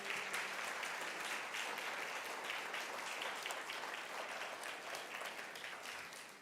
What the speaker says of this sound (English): First of all, round of applause for Diana.